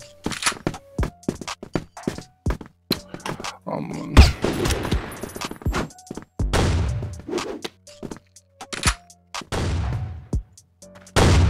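Gunfire in the online shooter CrossFire: sharp, loud bursts of automatic and single shots in irregular clusters, with brief gaps and louder rapid volleys near the middle and end.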